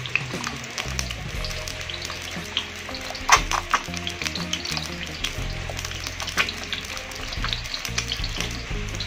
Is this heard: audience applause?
no